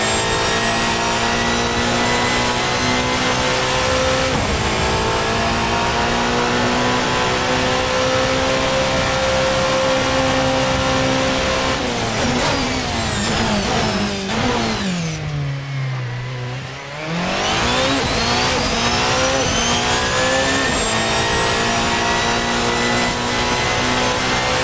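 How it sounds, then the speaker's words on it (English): A fast car on public roads in Northern Ireland accelerates hard past 350 km/h, its engine note climbing through gears in a loud continuous roar, dipping briefly with a downshift before rising again. "Up over 350 kilometers an hour. What a car."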